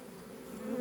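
Honey bees buzz at the entrance of a hive, a dense steady hum that swells slightly louder toward the end, close by and with no voices.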